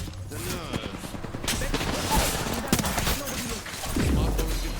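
Rapid bursts of weapon fire crackle through a hectic video game battle at moderate loudness, mixed with other combat effects while character voices speak over the shooting.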